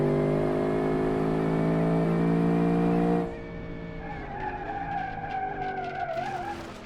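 A racing video game car with a 737-horsepower engine howls at high revs and then brakes hard, the engine tone cutting out into a long tire squeal and skid with shifting pitch.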